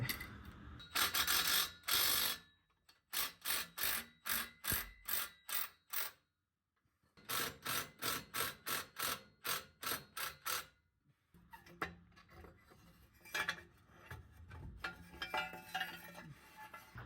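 A ratchet works loose the downpipe bolts on a 1959 Mercedes, with rapid bursts of sharp metallic clicking separated by short pauses, close and clear, with no talking.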